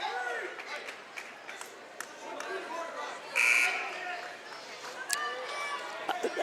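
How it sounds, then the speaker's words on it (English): A buzzer sounds briefly at a high school wrestling match between Kittatinny and Newton, a short bright tone heard over steady gym crowd chatter and commentary. "the buzzer sounded"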